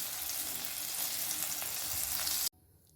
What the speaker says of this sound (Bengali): এই যে এইভাবে তেলটা গরম হয়ে গেছে, এই একটা করে করে আমি ছেড়ে দেব।